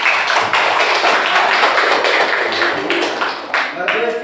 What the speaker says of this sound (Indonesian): Tepuk tangan buat Ismail.